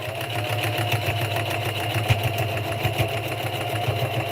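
A sewing machine stitches a fall tote bag made from Dollar Tree materials, giving a steady, close mechanical whir with a fast rhythmic needle chatter that runs evenly throughout, alone with no talking.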